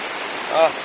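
Water rushes steadily over the Nekkarekalaya dam in a brief, dense roar, with a short voice-like sound briefly rising above it.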